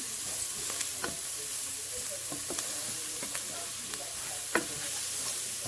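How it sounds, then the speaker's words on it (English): Vegetables sweat in butter and bacon grease, shrimp-and-grits style, a steady close sizzle broken by regular scraping and stirring clicks, with no voice over it. "Just sweating these down a bit. Added about 2 tablespoons of butter to that grease that was here."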